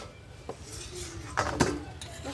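A cooking pot's lid is lifted off during home cooking of a pumpkin, potato and vegetable dish, giving a few soft metallic clinks and a brief clatter near the middle, with low kitchen background noise.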